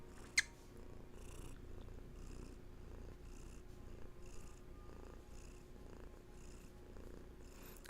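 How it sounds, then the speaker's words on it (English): A pet cat named Hattie purrs steadily and softly up close, a continuous low rumble with rhythmic breathing pulses, alone in a quiet room, with one brief sharp click near the start. "got some beautiful purrs for all of you"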